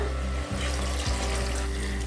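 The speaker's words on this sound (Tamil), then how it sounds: "அதனால் இதில் 5 கப்பு தண்ணி விட போகிறேன்." Water poured steadily onto samba (cracked wheat) semolina in a cooking pot, a continuous close, even splashing wash with a couple of brief dips, no voices.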